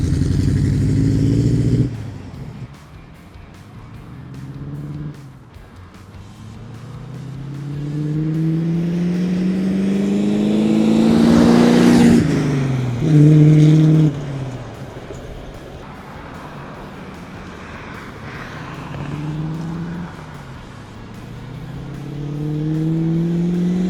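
A 1987 Land Rover Defender drives past in first gear, its engine rising and falling loudly through slow revving passes with gear whine, nearing and receding, with brief louder bursts.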